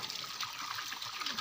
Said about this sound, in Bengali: কেটে ধুয়ে পরিষ্কার করছি।